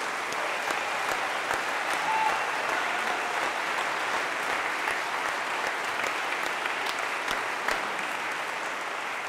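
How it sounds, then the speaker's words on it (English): At a summer chorale concert, an audience keeps up a sustained, even round of applause, heard from a distance and fairly soft, with scattered sharper claps standing out. "Can we give them one more round of applause,"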